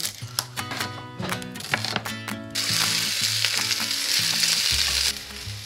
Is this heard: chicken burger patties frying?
yes